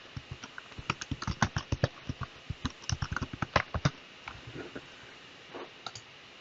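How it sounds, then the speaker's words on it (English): Quick, fairly soft key clicks on a computer keyboard as a new level name is typed into drafting software, an uneven run of taps that pauses and then resumes briefly, with no voice. "I'm just going to type in the new name."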